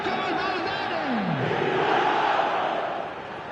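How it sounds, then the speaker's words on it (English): A packed stadium crowd in EA FC 26 roars loud and sustained after a goal, a dense continuous wall of cheering that swells and then eases slightly toward the end. "the crowd level has gone up a notch or 10"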